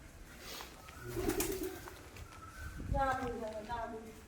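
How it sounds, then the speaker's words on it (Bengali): Pigeons cooing inside a room, with several low, throaty coos close by and a person talking in the background. "এই যে দেখছো, হাই দেখছো ঘরে কত পায়রা।"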